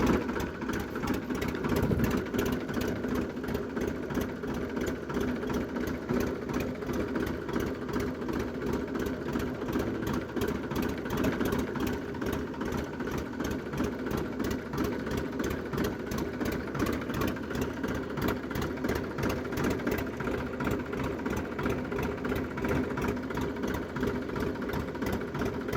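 A tractor engine idles steadily and unbroken for a long stretch, a low rumbling hum with a fast even chug throughout, fairly close and with no talking.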